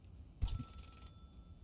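Payphone ringing in the video game Celeste, a single short electronic ring burst, clear and moderately loud against near silence.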